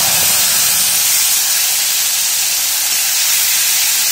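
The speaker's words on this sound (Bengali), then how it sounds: "এই মশলাটা কিন্তু খুব ভালো করে কষাতে হবে।" A spice paste of cumin, turmeric, salt and green chilli, with nigella seeds, sizzles loudly in hot oil as it fries, giving off a steady, close, hissing spray with no talk.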